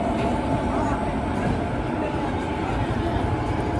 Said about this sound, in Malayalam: 2:54 നാഗ്പൂർ ജംഗ്ഷനിൽ നിന്ന് ട്രെയിൻ എടുത്തു